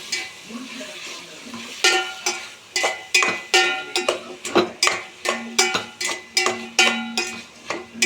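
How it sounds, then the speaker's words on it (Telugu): Tomato, coriander and fenugreek leaves frying for a ridge gourd curry, a low sizzle broken by sharp, regular clanks of a metal spoon against the pan, about two strikes a second, close and clear. "వేసుకొని మంచిగా ఫ్రై చేయాలి."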